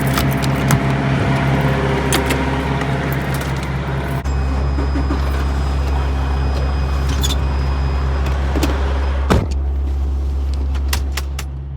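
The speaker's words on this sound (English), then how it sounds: "I'm doing Frozen, so the reefer is really loud tonight." Refrigeration unit on a semi truck trailer docked at night in Santa Fe Springs, a loud steady low drone that grows heavier partway through, with scattered clanks and knocks and no talking.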